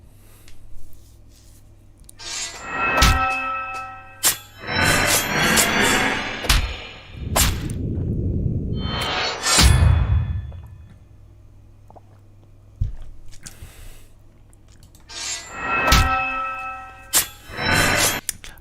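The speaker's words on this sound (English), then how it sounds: "I like that wong, that kind of bell sound." A bell-like clang sound effect rings out in several metallic strikes with shimmering overtones, interleaved with heavier thuds and a rumbling swell midway, then quiet gaps before more bright clanging hits.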